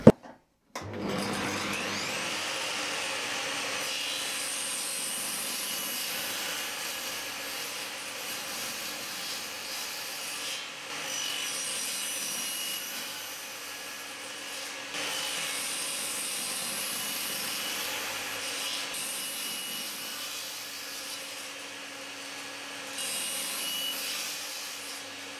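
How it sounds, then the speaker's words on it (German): A saw cuts steadily through wooden shelf side panels for a long stretch in a workshop, a continuous harsh rasping drone with slight changes in pitch and no talking. "Zunächst sägen wir jetzt die Seitenwände von dem Regal."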